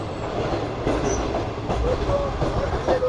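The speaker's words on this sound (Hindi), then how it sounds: "नहायत ही खूबसूरती के साथ ट्रेन ने शिफ्ट किया डेरा नवाब साहब रेलवे स्टेशन को" A Pak Business Express passenger train runs along the railway track past Dera Nawab Sahib station on the Karachi to Lahore route, its steady rumbling carriages and faint squealing wheels heard from on board, with a rhythmic clickety-clack.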